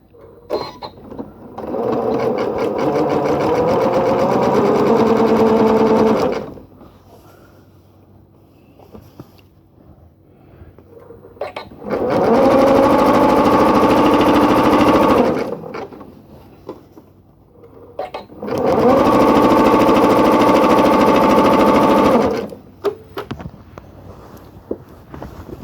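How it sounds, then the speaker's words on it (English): Sewing machine running zigzag stitches to join quilt-as-you-go strips, stitch width 5 and length 2, in three steady whirring runs of several seconds each, separated by quiet pauses with faint handling. "I'm just doing that exactly the same way with my zigzag that's set at a width of 5 and a length of 2."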